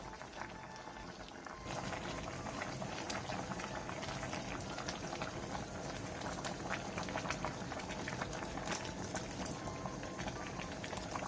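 A stew with perilla powder, chili, onion and minced garlic bubbles at a steady boil, a dense continuous simmering patter at close range that rises after a brief quieter opening, with no voices.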